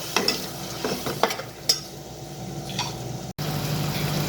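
Tomato gravy for restaurant-style chole bhature sizzles in a pan while a spoon stirs it, giving a few sharp scraping strokes over a soft steady fry, close and moderately loud with no talking.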